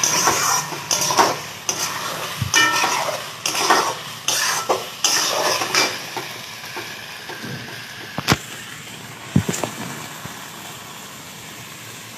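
Food frying in a pan while cooking, a steady sizzle broken by repeated scraping and stirring clatters of a utensil against the pan, close and fairly loud, with no talk.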